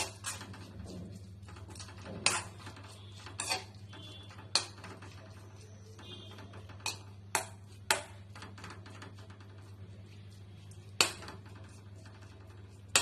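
A spoon stirring bread batter with green chillies and curry leaves in a bowl gives sparse, sharp clinks and taps against the dish, scattered irregularly over a quiet background hum.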